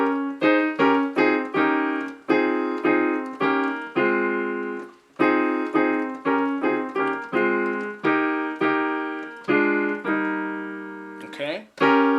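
A piano plays a Ghanaian praise melody harmonized with full African-style block chords, rich stacked notes struck in brisk rhythmic phrases, close and clear with short gaps between phrases.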